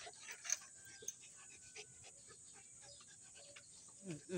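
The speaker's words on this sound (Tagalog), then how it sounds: "Hingal na hingal ka na." A pet dog panting heavily, faint rapid breaths close by in a quiet morning setting, with a few soft background sounds.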